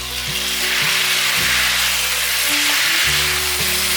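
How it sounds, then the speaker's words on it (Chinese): Cabbage and long beans stir-fry in a wok over medium-low heat, a loud continuous sizzle with the scrape of quick tossing throughout, no voices. "开中小火快速的翻炒"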